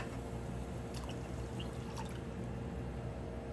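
Water poured into an emptied can of coconut milk to rinse out the last of it while making Thai yellow chicken curry, a soft steady trickle and drip alone at low level with a few faint metallic taps.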